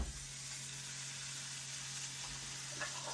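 Butter melting in a preheated pan on the hob, a steady close hiss of sizzling that holds evenly throughout, with no talk.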